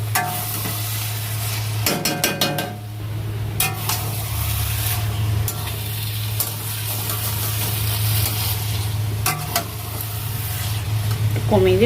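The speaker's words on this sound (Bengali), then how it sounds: "এবার মাংসটা দিয়ে দিয়েছি, দিয়ে ভালো করে কষাবো" Meat sizzles in hot spiced oil in a pan as it is stirred and browned for a home curry, a steady loud frying hiss broken by scraping spatula strokes throughout.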